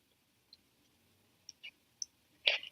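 Several light computer mouse clicks, sparse and close, quiet and isolated, with a slightly louder double click at the end.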